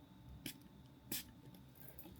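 Two quick hisses of a pump spray bottle of Aromatica Rosemary Root Enhancer misting onto hair, close and soft, spaced under a second apart in a quiet room.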